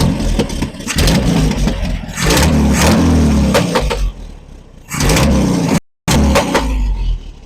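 A 1981 Datsun 720 engine revs up loudly as the gas pedal is pressed, rising and falling in repeated bursts over a steady running rumble, with a brief dropout near the end before it resumes.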